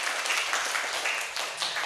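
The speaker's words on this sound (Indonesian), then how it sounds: "Iya, tepuk tangan dulu." Children in a classroom lesson clap their hands together, a short burst of scattered, fairly quiet clapping that swells and thins unevenly over about two seconds.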